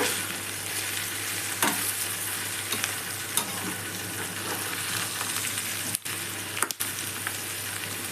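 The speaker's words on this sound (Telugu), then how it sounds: "సగభాగం మసాలా వేసి దీంట్లోకి కలుపుకొని" Bitter gourd slices frying with masala being stirred in, a dense continuous sizzle close up with intermittent scraping of the spoon against the pan and a couple of brief breaks, no talking.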